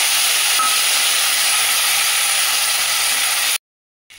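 Tomatoes and spices hiss and sizzle loudly in a hot pan while a yardlong bean vegetable dish with eggplant and potato cooks, a steady bright frying sound that cuts off abruptly near the end.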